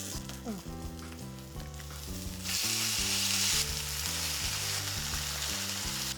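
Oil sizzles under a ragi uttapam topped with tomato and onion as it fries in a pan. A brief louder hiss swells midway, and background music plays throughout.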